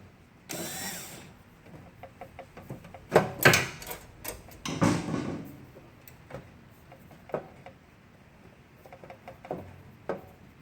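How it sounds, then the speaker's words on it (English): Screws are reinstalled into the top trays of a battery charger, giving scattered close metallic ticks, clinks and handling knocks in irregular bursts with quiet gaps between. "Just line them back up with the original holes and reinstall your screws."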